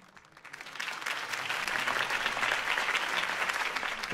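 A crowd at a political campaign speech breaks into applause that swells quickly and continues as steady, dense clapping.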